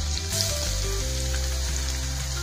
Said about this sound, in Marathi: प्रथम मोहरी व त्यापाठोपाठ जिरे हे तडतडायला लागताच हिंग टाकून घेऊ